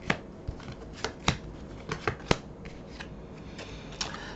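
Tarot cards being shuffled and laid down on a table: a run of crisp, close flicks and slaps at an irregular pace, with no talking.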